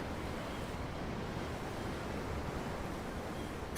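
Continuous rushing surf in Tales of Arise heard aboard a ship at sea, an even, unbroken wash of waves mixed with wind noise, steady in loudness with no voices over it.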